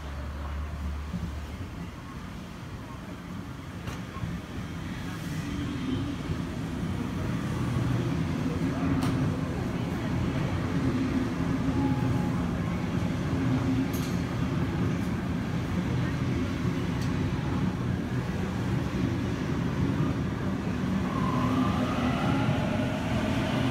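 A Sydney Trains city service at Flemington station rumbles steadily as it runs, a continuous low mechanical drone with faint squeals and clicks, the level swelling slightly over time.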